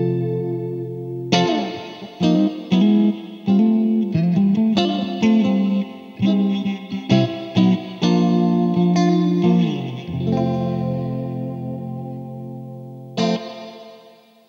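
Clean vintage electric guitar playing a series of chords and riffs with a chorus-like shimmer, ringing notes separated by short pauses, ending on a sustained chord.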